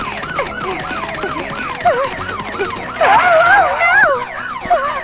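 A cartoon police car siren wails in a rapid rising-and-falling pattern, loud and close, swelling louder partway through, while a voice briefly exclaims over it.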